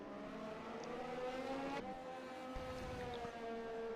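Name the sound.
Haas F1 car engine onboard, from a racing video game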